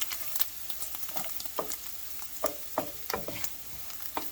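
Sausage gravy sizzling in a pan as flour is sprinkled over the sausage and stirred, soft frying hiss broken by repeated scraping and clicking strokes of the spoon at an uneven rhythm, fairly close and quiet.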